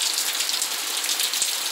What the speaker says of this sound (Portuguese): muita chuva, olha só.